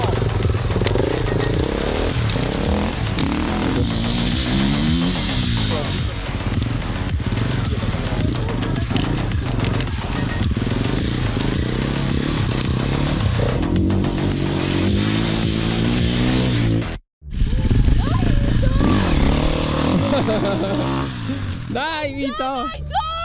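A new KTM 450 EXC-F dirt bike engine runs and revs up close, loud and continuous with rising and falling throttle blips, a brief cutout near the end, and people talking over it.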